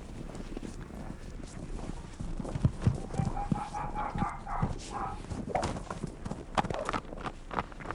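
A young horse being trained on a lead walks with steady clip-clop hoofbeats, fairly close, in an outdoor setting with a faint tonal sound midway.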